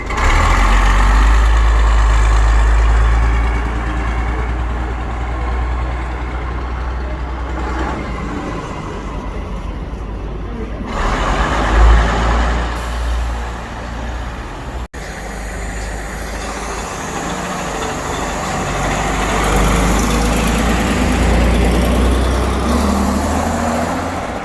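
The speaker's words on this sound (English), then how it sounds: "Now Leyland Leopard's about to pull off. I think I heard it just going into gear there." A Leyland Leopard bus pulls away at the Bridgeton Bus Museum in Glasgow, its deep exhaust giving a loud, continuous low rumble that swells and holds close by, with no talking.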